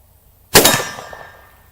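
A single sharp metallic clang as a Winchester PDX round from a Midland Arms .410 shotgun strikes a steel silhouette target. The hit follows near silence and rings out over a second.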